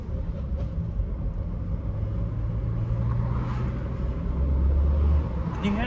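A VW Up! engine with its intake resonator removed revving at about 2,500 rpm with a deep, boomy drone that rises and holds, loud and close, with no voices.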